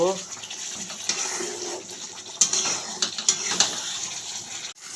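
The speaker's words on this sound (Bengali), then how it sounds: "একটু হাই ফ্লেম করে দিলাম, করে একটু নাড়াচাড়া করব।" Chicken stirred in a pot over a high flame for Punjabi-style chicken, a loud, close, hissing sizzle broken by bursts of scraping and sputtering from the moving pieces.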